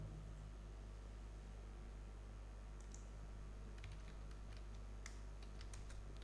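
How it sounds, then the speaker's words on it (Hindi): Keys tap on a computer keyboard, a scattered run of quick clicks starting a few seconds in, faint against a steady background hiss, with no talking. "मान लीजिए कि हमने कोई जैसा टाइपिंग वर्क किया"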